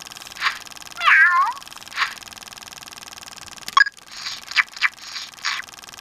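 Several short electronic meows and chirpy beeps from a Spin Master Bitzee virtual pet cat, spaced irregularly over a faint steady hum, with button-press clicks near the end.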